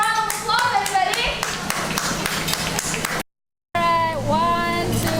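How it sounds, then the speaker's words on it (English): A cruise ship audience claps for a painter, brisk hand claps mixed with cheering voices and music, broken by a brief silent gap before the noise resumes. "let's give Picasso a round of applause, everybody"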